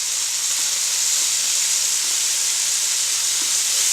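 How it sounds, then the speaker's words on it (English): Monkfish searing in a pan among pancetta juices gives a constant, close, loud hissing sizzle that holds evenly throughout, with no talk. "we're going to slightly sear it on each side. It's going to be cooking amongst the beautiful juices of the pancetta"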